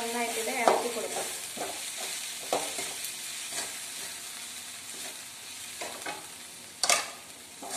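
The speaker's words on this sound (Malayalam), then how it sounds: "അതിന്റെ പച്ചമണം മാറുന്നതോടെ വരെ നമ്മൾ നന്നായിട്ട് ഇളക്കി കൊടുക്കാം" Kerala-style chicken varattiyathu being stirred in a frying pan, a soft continuous sizzle broken by irregular scraping strokes of the spoon and a sharper clatter near the end, fairly quiet and without talk.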